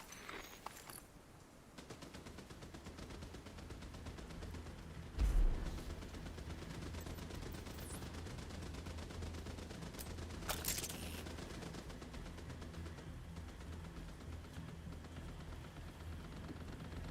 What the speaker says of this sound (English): Turrets at the main gate!